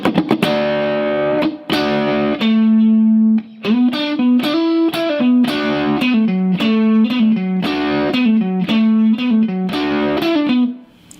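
Electric guitar with distortion playing a line from the second solo of a song at a slow tempo, sustained bent and held notes in separate phrases with short gaps, loud and clear with no talking.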